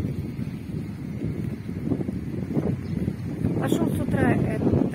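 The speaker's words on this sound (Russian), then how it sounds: "Ну, ветер не такой сильный, но все равно ветер." Steady wind at the seaside on a drizzly morning, a broad low rumble and gusty buffeting against the microphone throughout, rising slightly toward the end, with faint rustling over it.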